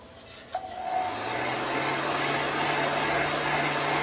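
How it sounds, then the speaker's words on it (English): A heat gun blows a steady, close, whooshing hum while drying chalk paste, starting with a soft click and then running evenly throughout. "You just want to continually move your heat gun"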